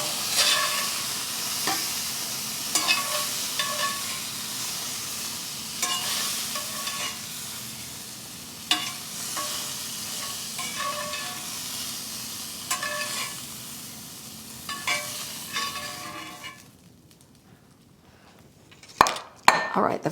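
Steak bites searing in a pan in a hotel room, a loud constant sizzle with regular utensil scrapes and clinks, fading toward the end into a few sharp pan knocks.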